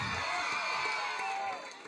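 An audience cheering and clapping together, a loud sustained roar with shouts and whoops throughout that fades slightly toward the end.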